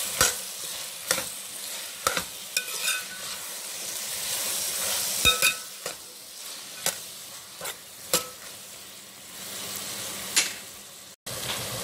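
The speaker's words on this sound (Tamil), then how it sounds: "தேவையான அளவு பச்சை பட்டாணி நல்லா போட்டு கிளறிடுவோம்." Green peas get stirred into a frying vegetable biryani mixture. A soft, steady sizzle carries through while a spoon scrapes and taps against the pot in irregular, distinct strokes, fairly close and without speech.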